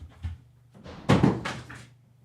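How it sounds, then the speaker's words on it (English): A cat bangs against a door indoors, producing a couple of soft knocks followed by a louder rattling thud and a short clatter, close by with no talk over it. "Just bangs the door all day long."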